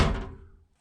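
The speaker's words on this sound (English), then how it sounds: "I'll close the door on you guys." A single solid thunk as the door of a BMW E36 M3 shuts, close and loud, fading quickly into silence.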